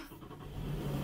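Inside a car with the engine running, a low steady hum and rumble filling the cabin, no voices.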